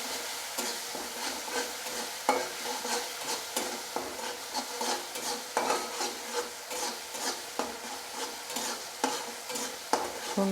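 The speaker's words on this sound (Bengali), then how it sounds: "দিয়ে দিচ্ছি 2 চা চামচ টক দই। দিয়ে এটা ভালোভাবে মিক্স করে নিচ্ছি।" Spices and sour yogurt stirred in a sizzling pan for vegetarian aloo dum, with a spoon scraping and clacking in irregular strokes over a constant frying hiss, close and clear with no talking.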